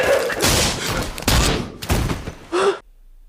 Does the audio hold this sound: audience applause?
no